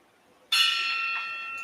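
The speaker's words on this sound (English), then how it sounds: "This is the bell." A single bright bell is struck once and its ringing tone sustains clearly and fairly loudly, slowly fading with a faint second touch near the end.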